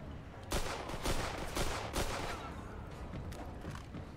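Rapid gunfire from a Mafia 2 shootout cracks in quick, uneven bursts, several loud reports overlapping with echoing reverb against a constant low background rumble.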